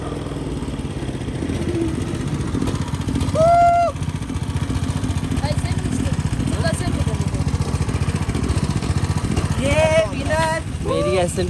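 Go-kart engines buzz through a kart race in Turkey, with a steady mid-pitched drone and a few rising whines as karts pass. Voices talk over the engine noise.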